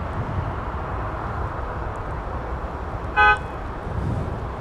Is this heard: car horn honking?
yes